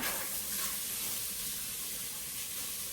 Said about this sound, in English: I'm just going to go ahead and add in our diced yellow onion.